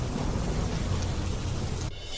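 Heavy torrential downpour in Mandi district, Himachal Pradesh, a dense continuous roar of rain pounding surfaces, loud and unbroken with no voices, cutting off abruptly near the end.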